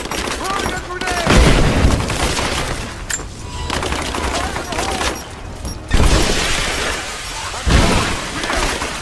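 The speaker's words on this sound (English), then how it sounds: "Throwing a grenade." Combat in Rise of the Tomb Raider: a grenade blast and repeated heavy bangs of gunfire punctuate a busy battle, with sharp loud impacts at intervals and in-game voices shouting beneath.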